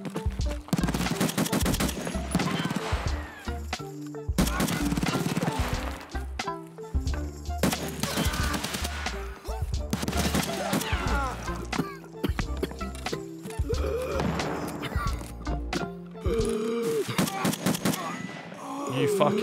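Gunfire in a first-person shooter video game: bursts of rapid, loud, close shots in rattling volleys separated by brief pauses, with a voice talking between and over the shots.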